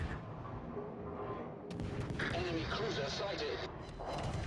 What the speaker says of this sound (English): Eckinside has some nice shots here at the Grossevoy